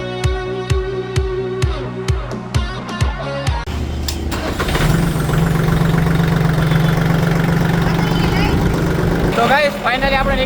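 A new Swaraj tractor's diesel engine cranks with a regular chugging rhythm, then catches and settles into a loud, steady idle close by, with no talk over it.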